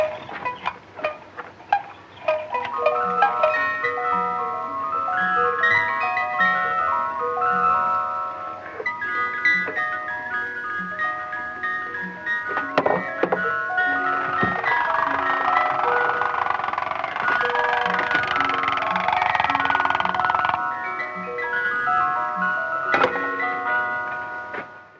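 Wind-up toys and music boxes in an old 1934 film playing tinkling melodic notes with ticking clicks, one tune overlapping another, a denser whir swelling in the middle, fairly quiet and with no talk.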